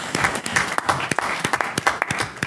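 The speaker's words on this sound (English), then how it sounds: "it's okay to clap" Audience clapping at a Portsmouth, Virginia city council meeting, a brief, fairly close burst of scattered claps from a modest crowd, uneven and sparse rather than a dense roar.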